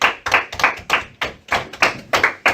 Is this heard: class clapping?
yes